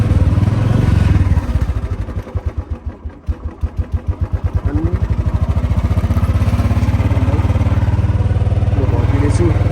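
A motorcycle is kick-started, with uneven chugging firing pulses that quickly catch into a steady, loud, close idle that keeps running evenly.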